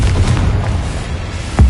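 A Confringo fire spell from Hogwarts Legacy bursts with a deep booming blast, a low rumbling explosion that swells and rolls, then a second sharp impact at the end.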